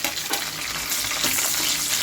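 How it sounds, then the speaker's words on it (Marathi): Sliced onion sizzles in hot tempering oil in a kadhai, a close, dense crackling hiss with faint stirring scrapes and no talk. "टाकले कांदा उभा चिरलेला."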